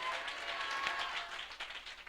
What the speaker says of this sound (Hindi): ताली बजाकर हालेलुया कह के प्रभु को धन्यवाद दें।